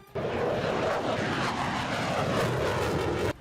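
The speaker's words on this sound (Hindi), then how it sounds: "F-16V फाइटर जेट इतनी फुर्ती से उड़ा कि पलक झपकते ही आंखों के सामने से ओझल हो गया।" An F-16V fighter jet passes overhead with a loud, continuous broadband roar that stays powerful for about three seconds, then cuts off abruptly.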